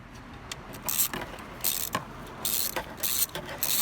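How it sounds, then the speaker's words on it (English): A socket wrench ratchets out the gear oil drain bolt on a Yamaha Majesty 250 scooter: several short bursts of sharp, close clicking separated by brief pauses. "just put your socket over there and start unscrewing"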